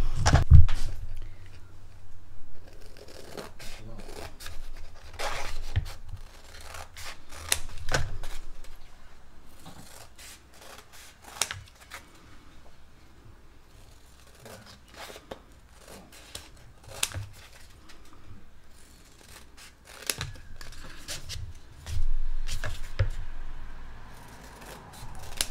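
Scissors cutting paper to cover notebooks, repeated crisp snips and rustling paper handling at close range, in irregular bursts with quiet gaps between.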